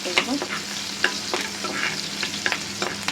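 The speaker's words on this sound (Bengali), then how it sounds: "এই পেঁয়াজ রসুনটা ভাজা ভাজা হয়ে আসা পর্যন্ত অপেক্ষা" Onion and garlic frying in a pan for a taro-stem dish, a steady close sizzle broken by several sharp scrapes and clinks of stirring, with no talking.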